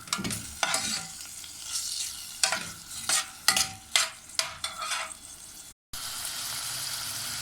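Shrimp sizzle and fry in a pan for shrimp molokhia, with repeated scraping, stirring bursts over a steady close frying hiss and a brief dropout near the end.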